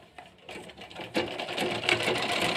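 A sewing machine runs in bursts while stitching a Punjabi dress, with its rapid whirring clatter starting and stopping, then speeding into a steadier run up close.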